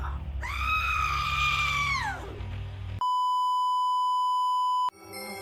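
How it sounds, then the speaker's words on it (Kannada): A woman's long, shrill scream rings out as if from inside a wall, a horror sound effect that rises and then trails downward. An abrupt, steady electronic beep tone follows. "ಗೋಡೆ ಒಳಗಿಂದ ಒಂದು ಹೆಂಗಸಿನ ಕಿರುಚಾಟದ ಶಬ್ದ."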